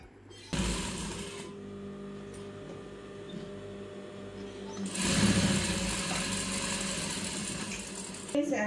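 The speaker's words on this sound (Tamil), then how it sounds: "நான் ஒரு இது பீஸ் தைச்சு காட்டுறேன் பாருங்கள்" Sewing machine stitching a piece of cloth, a steady motor whir with rapid needle chatter that surges louder partway through, close and continuous.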